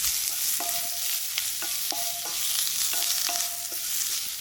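Spices with turmeric and a pinch of salt are stirred as they fry in a hot iron pan, with a soft continuous sizzle. Repeated scraping strokes of the spoon come at an irregular rhythm, with no voices.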